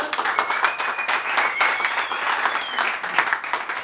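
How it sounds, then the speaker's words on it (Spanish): Loud, dense applause from a large crowd, continuous clapping filling the whole stretch, with a faint whistle-like tone drifting above it. "un aplauso para las chicas"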